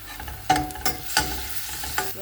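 Onion and garlic paste frying in a pan, sizzling steadily while a spoon or spatula stirs and knocks against the metal in several distinct close scrapes and clacks.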